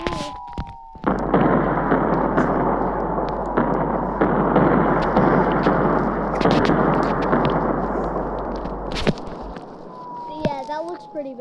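Tsar Bomba nuclear blast in the god-simulator game Worldbox: a loud, sustained roaring rumble lasting around eight seconds that cuts off abruptly, followed by quieter game sounds and voices.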